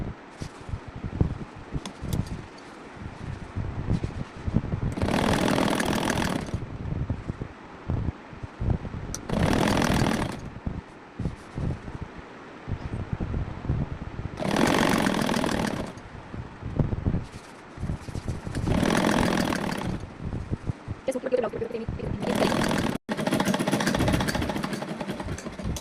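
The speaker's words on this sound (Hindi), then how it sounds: "ऊपर ऐसे सिलाई लगा लेंगे साइड में" Sewing machine stitching the side seam of a round-neck blouse, with several loud rapid bursts of stitching separated by quiet pauses and light handling of fabric.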